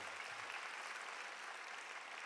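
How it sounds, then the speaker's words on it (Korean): Congregation applauding in a church after a worship song, a steady, even wash of clapping that holds throughout at moderate level with no voices on top. "다시 한번 하나님께 영광의 박수 올려드립니다"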